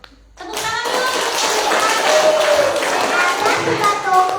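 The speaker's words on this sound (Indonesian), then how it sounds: "Tepuk tangan dulu." Audience members at a Catholic scripture storytelling event clap together after the story ends, dense steady applause from a nearby crowd lasting several seconds with some voices mixed in.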